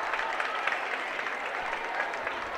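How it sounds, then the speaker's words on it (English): Crowd cheering and applauding in a gym at a Special Olympics basketball game, with a steady, dense roar of clapping and shouts lasting throughout. "The crowd is going wild for number 20, Tara Rao"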